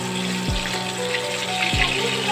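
Onion frying in oil in a pan while hilsa fish is being cooked, a steady, even sizzle throughout, with a couple of brief low thumps over it.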